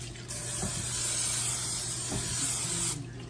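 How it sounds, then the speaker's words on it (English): A steady aerosol hiss of cooking spray onto a skillet lasting a few seconds, close and continuous, then stopping abruptly. "Here's the cooking spray that I use, so we're gonna shut the flame off for just a minute and spray."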